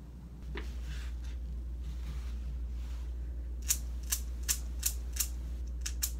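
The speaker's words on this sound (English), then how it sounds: "We're gonna do a toenail trim." A pet's overgrown toenails get clipped: after a quiet stretch with low hum, about six sharp, crisp snips sound close up in a fairly even rhythm, with no talking.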